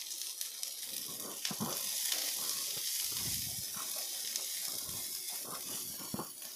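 Vegetables for fried rice sauté in a pan with a continuous soft sizzle and hiss, broken by occasional clinks and scrapes of stirring, fairly quiet and steady throughout.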